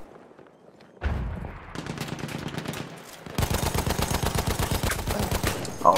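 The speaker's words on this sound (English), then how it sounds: "Who is shooting at me?" Automatic gunfire rattles in Battlefield 1 during a support-class match, with an opening burst and then a long, dense, rapid string of close, loud shots firing at a steady rhythm.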